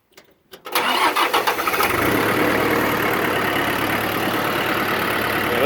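A Mitsubishi MT2501D four-wheel-drive compact tractor engine cranks with a few quick starter pulses, catches and settles into a steady, loud diesel idle close by, with no voices.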